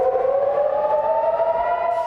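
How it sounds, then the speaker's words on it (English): A civil defense air raid siren in Israel wails continuously, its tone sustained and slowly rising, loud and steady throughout with no voices. "Air raid sirens wail in Israel"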